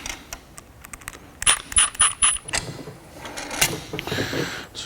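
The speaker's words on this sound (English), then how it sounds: "You just want to make sure you torque this down evenly." A wrench turns and tightens a fitting on a new hose reel during assembly, giving rapid metallic clicks and ratcheting taps in irregular bursts close by, with no talk.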